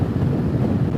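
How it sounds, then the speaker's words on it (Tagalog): Strong wind roars and buffets the microphone steadily for the whole second, a dense low rumble with no voices. "Lakas ng hangin, sobra."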